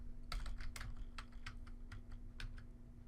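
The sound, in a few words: typing on a computer keyboard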